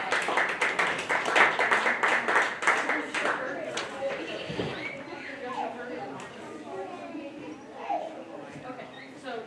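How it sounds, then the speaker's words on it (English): Clapping for two exhibitors at a county fair dairy show, strong and rhythmic for about four seconds before thinning into scattered claps under crowd murmur and talk. "let's go ahead and give these two exhibitors a big round of applause"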